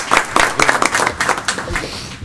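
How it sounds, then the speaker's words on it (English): A meeting room gives a round of applause for new board chairman John Roberts, a small group clapping with uneven, distinct hand claps that thin out toward the end. "So I'd like to ask that we give a round of applause recognizing John."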